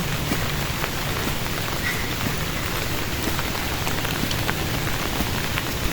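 Heavy rain pours down steadily in a forest during a storm with strong winds, a dense, continuous roar of drops hitting surfaces that stays loud and unbroken throughout, with no voices.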